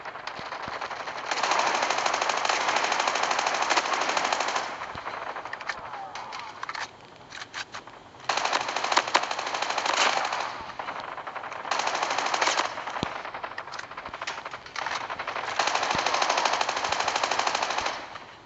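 Long bursts of rapid automatic gunfire from a weapon in the mobile game Call of Duty Mobile, loud and sustained with short pauses between sprays.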